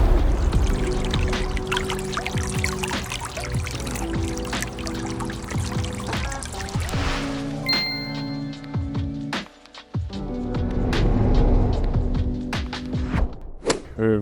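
Water splashes and pours steadily through a backyard pond water feature with a stacked slate wall, basin and urn, a close, continuous trickling and gushing with brief dips, no talking.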